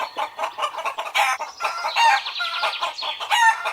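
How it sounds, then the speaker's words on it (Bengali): Chickens cluck loudly together at close range, a dense overlapping chorus with crowing calls rising among the clucks, filling the whole span without talk. "মুরগিগুলো আজ হঠাৎ একসঙ্গে ডেকে উঠল।"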